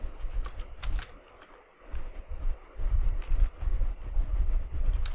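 Fingers tap out code on a computer keyboard, quick irregular clusters of close key clicks with a brief pause near the middle, fairly quiet.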